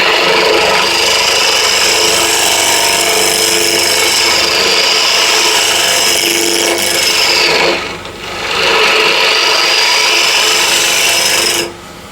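A spindle gouge cuts a spinning wooden blank on a lathe, giving a steady, loud scraping rasp with a faint whine running under it. The cutting eases off briefly around the eighth second, then carries on until it stops near the end.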